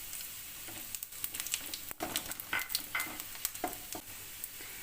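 Whole spices sizzling in hot oil for an egg roast: cinnamon, a cardamom pod, cloves, star anise pieces and a pinch of fennel seeds crackle and spit in quick irregular pops over a steady faint frying hiss.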